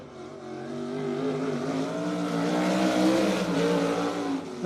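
Dirt track race car at BAPS Motor Speedway in York Haven, Pennsylvania, its engine firing and running rough with a steady growling drone that swells slightly, heard at moderate distance with no talk.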